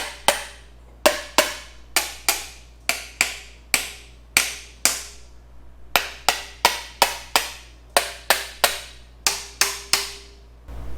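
Sharp metallic hammer blows strike the stuck engine valves of a 1956 Cadillac Sedan DeVille barn find that sat for decades, about twenty close, ringing whacks in uneven bursts, each followed by a brief decaying ring over a low steady hum.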